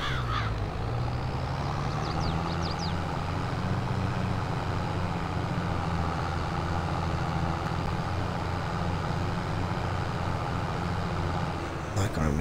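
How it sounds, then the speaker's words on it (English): A tractor engine idles in the Farming Simulator video game, a steady, loud low rumble that runs unbroken throughout, with faint crow-like calls above it. "Get our tractor up here and start filling it with crops."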